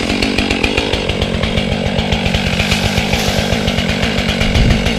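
A Stihl MS 500i chainsaw runs at close range with a loud, steady, rasping engine whine and fast rhythmic pulsing throughout.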